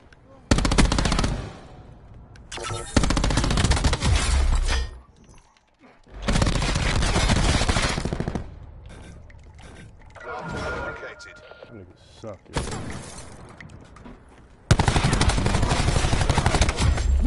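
Video game gunfire on PS4: loud bursts of automatic fire in several long volleys with short gaps between them, and someone talking over parts of it.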